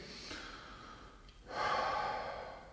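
Deep, pronounced abdominal breathing during a qi gong session: a soft inhale, then a longer, louder airy exhale, close to the microphone with no talking.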